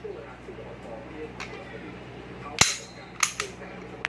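A Sig Sauer P320 blank pistol fires three sharp cracks, one alone and then two in quick succession, against a quiet room background with faint movement between shots.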